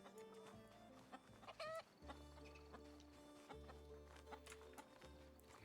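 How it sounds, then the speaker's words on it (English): Chickens in the fantasy survival game RuneScape: Dragonwilds cluck softly over a steady hum and ambient game sounds, with faint clip-clop-like footsteps mixed in and no voices. "Man, these chickens."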